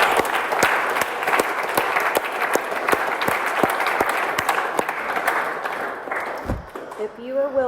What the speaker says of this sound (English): Let's give tonight's speakers another round of applause.